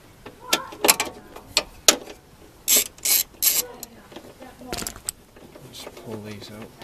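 Two T30 Torx head bolts being undone from a car cover on a Colt Ralliart CZT, heard as several short ratcheting clicks and mechanical bursts close up, with someone talking around them.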